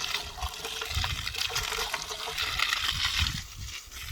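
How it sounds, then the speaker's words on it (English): Water rinses sludge out of a water filter during weekly cleaning, a continuous close rush and splash of flowing water with some sloshing. "Just a quick rinse is all you need there."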